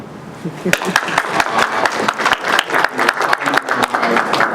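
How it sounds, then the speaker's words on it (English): Applause from an audience at a community cancer forum in Elmont, a fairly dense burst of claps with some voices mixed in, close and moderately loud. "I actually want you guys to give yourself a round of applause for coming out."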